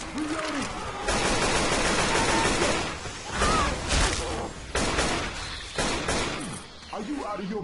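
Bursts of gunfire from the Left 4 Dead 2 video game rattle in repeated volleys and thuds, mixed with voices talking over the action throughout.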